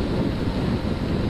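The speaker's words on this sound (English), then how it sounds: "it's windy. I'm assuming you can hear the wind." Steady roaring wind buffeting the microphone while riding a motorcycle on a road near Brussels, loud and continuous with no voices.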